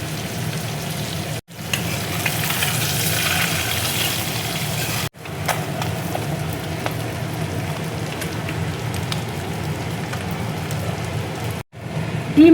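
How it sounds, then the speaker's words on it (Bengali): Eggs seasoned with turmeric, salt and chili powder fry in a pan with a loud, steady crackling sizzle, broken by a few brief cuts, close and continuous. "ডিম দেখো ভাজা হয়ে গেছে"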